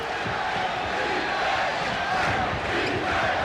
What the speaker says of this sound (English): the first chant of defense from the crowd